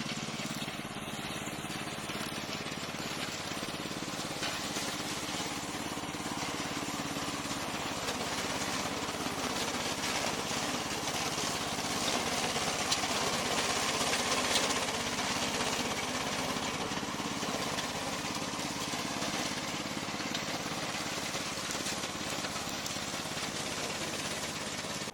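A remote-controlled slope lawn mower runs steadily close by, giving a continuous, moderately loud engine drone with a rough, knocking texture that holds level throughout with no speech.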